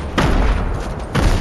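Two loud booming blasts about a second apart in the video game Fortnite, bomb explosions heard close and heavy.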